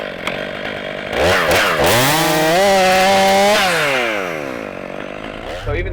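A Stihl 500i chainsaw revs up and cuts through heavy firewood rounds, a loud sustained whine that rises in pitch during the cut and then winds down.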